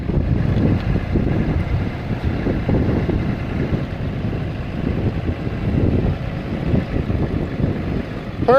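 A stuck vehicle's engine drones low and steady under a little throttle while it sits bogged in mud in a remote spot, with a constant rumble and wind buffeting the microphone.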